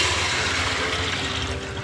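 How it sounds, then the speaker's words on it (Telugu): Water pours in a continuous rushing gush into a cooking pot holding bagara rice tempering, loud and close and filling steadily with no talk over it. "ఇప్పుడు వాటర్లో బగారా పోపులో వేసేద్దాం"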